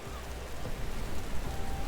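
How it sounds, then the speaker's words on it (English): Steady rain in a Banished-style medieval city-building game, a dense continuous hiss of falling drops that stays loud and even throughout, with no voices over it. "I think the rain gets louder when you're down by the surface"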